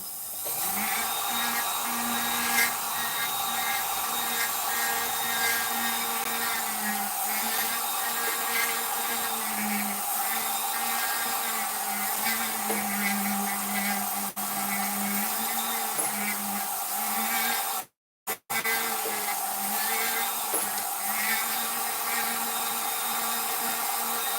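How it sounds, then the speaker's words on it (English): A rotary tool spun at high speed with an aggressive wax burr carves a jeweller's wax ring, giving a steady, close whine with a sustained motor tone that briefly cuts out near the end and then resumes. "This is a wax burr. It's very aggressive, so you want to be careful if you're carving waxes."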